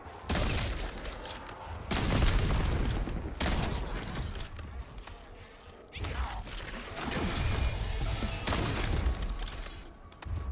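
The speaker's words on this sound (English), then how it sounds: "Frag going out." A frag grenade goes off in a video game shooter amid bursts of gunfire, several loud booming crashes with rumbling tails.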